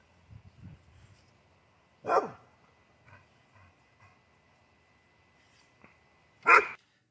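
A 27-week-old Bullmastiff puppy barks at a dog behind a fence, two loud single barks a few seconds apart, with faint rustling and quieter grunts in between.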